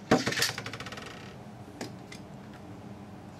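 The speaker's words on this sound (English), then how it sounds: "Here, now we'll do the test launch." A Beyblade Metal Fight spinning top is launched in a test spin, a sharp metallic clatter followed by a fast rattling whir that quickly fades, then a couple of faint ticks.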